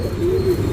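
A breeding pigeon of a champion line gives a single short, close coo, a soft low tone rising and falling over a steady background hum.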